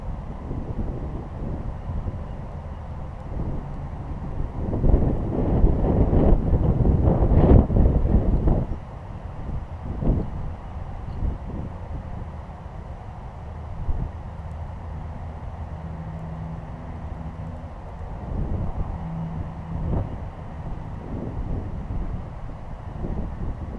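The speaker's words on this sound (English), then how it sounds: "It's a pretty windy day." Outdoor wind on a gusty day beside a campfire being built, a steady low rumble of wind buffeting the microphone that swells louder for a few seconds before settling into a continuous blustery roar.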